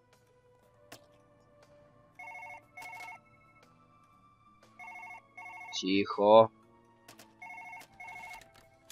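An electronic telephone ring in the video game Surgeon Simulator 2013: paired bursts of a bright warbling tone repeated at regular intervals, clear and close, with a short spoken exclamation and rustling game sounds between rings.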